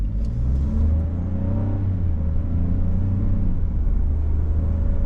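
A 2025 Ford Bronco Sport Big Bend with a 1.5-litre turbo three-cylinder pulls away, its engine droning and building steadily from inside the cabin, moderately loud with no talk over it.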